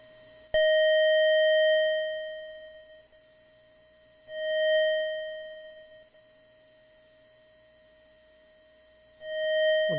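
A Commodore 64 SID sound chip tone, stuck and lingering after tests complete, sounds three times, the first sustained steadily before fading, then two shorter swells of the same pitch.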